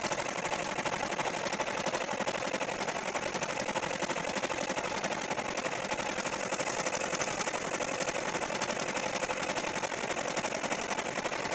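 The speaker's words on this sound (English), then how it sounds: "it should stitch the rest of the design straight through" An embroidery machine stitches an insect garden hanger design in a steady, continuous mechanical whir, the rapid needle action holding at a constant moderate level with no stops and no talking.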